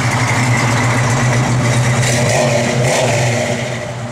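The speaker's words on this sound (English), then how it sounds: "Of course, that great Mopar sound." A 1970 Plymouth Barracuda's Mopar V8 runs close by at a steady, loud idle with a deep low rumble, swelling slightly in a mild rev before settling toward the end; no voices.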